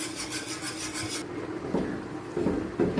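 A spoon scrapes and rasps through thickening sweet corn coo coo in a pot, close up, with a steady rubbing texture and then a few separate heavier strokes.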